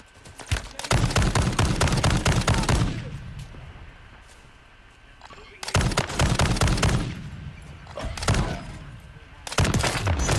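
Rapid automatic gunfire in the Warzone video game comes in three loud bursts of fast cracking shots, separated by quieter gaps.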